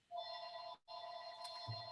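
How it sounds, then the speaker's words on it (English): A mobile phone rings in the background with a steady electronic tone in two bursts separated by a short gap, moderately faint, with no talk over it. "That's my phone ringing in the background."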